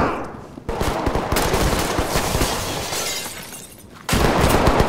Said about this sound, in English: But where are they shooting from?